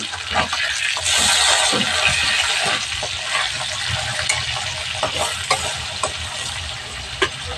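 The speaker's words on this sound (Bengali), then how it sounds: "এইভাবে আমি লাল লাল করে ভেজে নেব" Pieces of rohu fish sizzle and spit steadily in hot mustard and refined oil, a loud close frying hiss with occasional pops and stirring scrapes, no talking.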